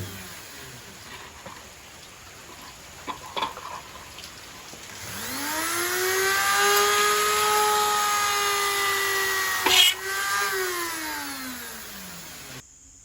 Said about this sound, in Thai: มาเจาะแบบนี้ครับ ตามตำแหน่งรูที่เราเล็งไว้แล้วนะครับ ผม เจาะให้ทะลุคัดซีไปเลย